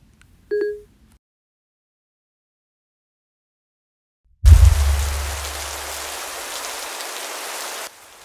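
Rain on a rainy Monday, a brief soft tone at first, then after a long silence a sudden low thump and a steady broadband hiss of falling rain that cuts off near the end.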